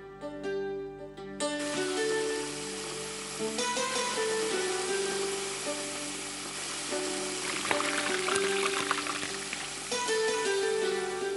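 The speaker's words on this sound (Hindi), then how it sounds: "इन आलूओं को हम अच्छी तरह सुखा कर डीप फ्राई कर रहे हैं" Potatoes deep frying in a deep fryer, making a continuous bubbling hiss that runs under loud background music.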